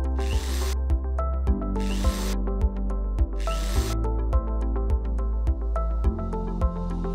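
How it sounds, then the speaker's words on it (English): Rhythmic mechanical tool noise with regular thumping pulses about every half second, broken by a few bursts of harsh high-pitched drilling into a wall, loud and close. "Drill the pilot holes."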